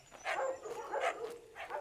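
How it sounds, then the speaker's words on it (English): Dogs bark at hunting dog kennels, about four rapid barks in quick succession, blurred and echoing as if from a short distance away, with no voices. "This is a lot of dogs."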